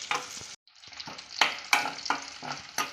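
Chillies and tomatoes for a coriander chutney fry in a pan, a soft sizzle broken by irregular scraping stir strokes, close and fairly quiet, with one brief pause.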